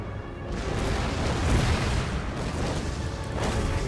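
Howitzer cannon fire in the Empire: Total War video game, heard as a dense, continuous barrage of booming blasts layered into a loud rumble with no clear gaps between shots.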